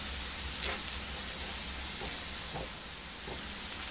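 Onions stir-frying in a pan after about ten minutes of cooking give a steady, close sizzling hiss, with a few faint scraping stirs over it and no voices.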